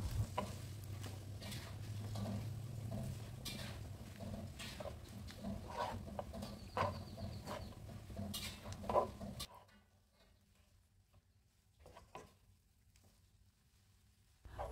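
A spatula scrapes and stirs nasi goreng with sambal belacan in a pan, soft repeated scraping with faint sizzle, then the stirring stops and the kitchen goes nearly quiet with a few light clinks.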